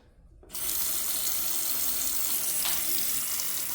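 A low-pressure kitchen faucet is switched on and water gushes steadily into a sink, a loud, even rushing hiss that continues without pause.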